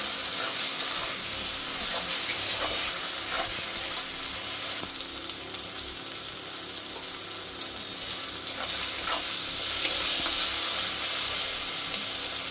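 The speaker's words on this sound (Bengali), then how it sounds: "লবণ দিয়ে একবার নেড়ে নেবো সবজিগুলো।" Vegetables with salt are stirred in a hot pan for pasta, a steady broadband sizzle with faint scraping of the spoon, continuous and close, with no voices.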